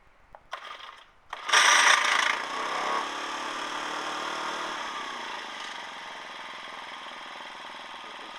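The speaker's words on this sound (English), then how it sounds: "Motor's running, but there's no power going through the shaft." A small generator motor runs steadily with a rough, chattering clutch, sharp clattering bursts early on before settling into an even mechanical drone.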